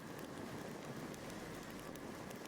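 Steady rain in the video game The Witcher 3, a dense continuous patter with no pauses, moderately faint and heard alone for the whole stretch.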